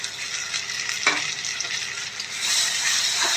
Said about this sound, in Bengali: পেঁয়াজ ভাজা হয়ে গেছে মশলাটা দিয়ে দিলাম